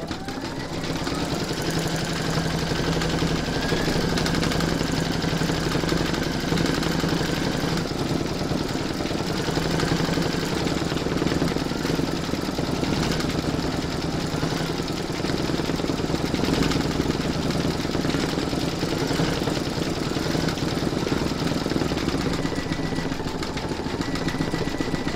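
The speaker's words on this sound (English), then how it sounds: "you're going to stitch round number 12, and that's going to do the blacks of the eyes and the eyebrows" An embroidery machine stitching black thread for eyes and eyebrows on a reindeer applique: a loud, continuous rapid mechanical whir and chatter of the needle, steady throughout with faint tonal hums, no speech.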